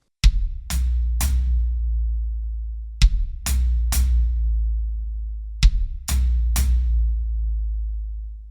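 Three-note drum kit triplet on bass drum and floor tom played with both hands together, repeated three times with pauses, each group of crisp hits followed by a long, deep ringing floor tom sustain.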